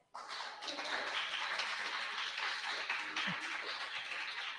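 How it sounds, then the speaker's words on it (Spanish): An audience at a general meeting applauds two couples, a continuous wash of many hands clapping that starts abruptly and holds steady, moderately distant and fairly soft. "les vamos a dar un aplauso"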